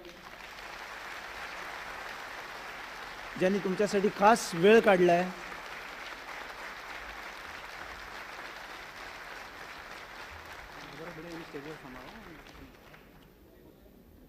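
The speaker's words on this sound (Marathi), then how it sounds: "आजच्या पाहुण्यांना एक सलामी म्हणून आपण जोरदार टाळ्या वाजवूयात" Audience applause for stage guests at a club event, a short loud burst of clapping and cheering that rises between quiet stretches, with a voice speaking over a steady background before and after.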